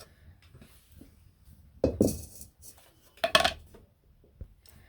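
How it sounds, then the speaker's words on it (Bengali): Freshly fried spices tipped from a pan into a dry bowl, heard as a few sharp clinks and clatters of metal utensils against dishes amid quiet kitchen shuffling. "এখন এটা শুকনো একটা বাটিতে রেখে দিলাম"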